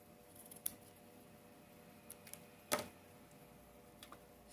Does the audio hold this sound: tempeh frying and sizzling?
no